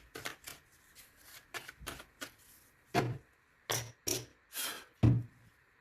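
A deck of oracle cards is shuffled and cut by hand, giving a run of short crisp riffling bursts with a few louder flutters and slaps near the end, close and alone with no voice.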